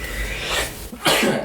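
A person sneezes once, a sharp close burst that follows a softer breathy lead-in, in a casual indoor conversation setting.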